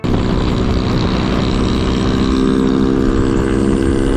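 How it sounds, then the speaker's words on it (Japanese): A Honda PCX scooter with a loud aftermarket exhaust drones steadily and close up while riding on Ishigaki Island, a continuous engine roar with wind noise and no talking. "S 君の、PCX は、マフラー音が、爆音です。"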